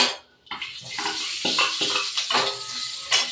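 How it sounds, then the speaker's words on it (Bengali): Onion, bay leaf, dried and green chillies and whole garam masala spices tempered in hot oil for dal, a sudden sizzle followed by clattering utensil stirring and continuous frying crackle. "এখানে এই যে রেখেছি পেঁয়াজ, তেজপাতা, শুকনো লঙ্কা, কাঁচা লঙ্কা আর গোটা গরম মশলা ফোড়ন দিয়ে দিলাম"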